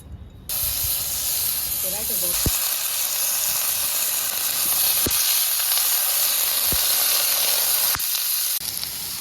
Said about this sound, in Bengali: বেগুনটা আমি ভাজা করে নেবো